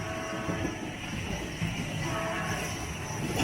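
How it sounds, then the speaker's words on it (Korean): Small kiddie train at the National Science Museum in Busan running steadily along its track, a continuous rumbling rolling noise with faint rail clatter, heard alone without talk. "열차가 지금 자, 9번 레일을 이렇게 회전해서 가고 있네요"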